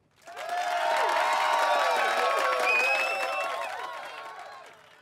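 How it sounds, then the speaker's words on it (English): A large conference audience at the 3DEXPERIENCE World 2022 general session swells into applause mixed with cheers and whistles, rising quickly, holding loud and then fading away. "give a big, big applause to our certified users."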